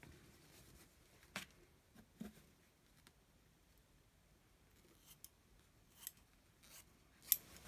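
Scissors snip through a piece of fabric being cut to reinforce a handmade agenda binding, giving a few quiet, scattered cuts separated by pauses, with the sharpest snip near the end.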